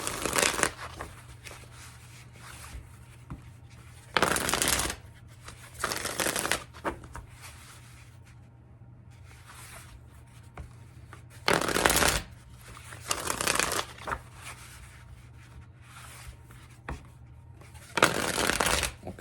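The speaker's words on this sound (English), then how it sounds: "Need 2 more shuffles for Scorpio." Tarot cards shuffled in repeated quick riffles, sharp bursts of flicking and snapping spaced a few seconds apart with quiet handling between them, close and crisp.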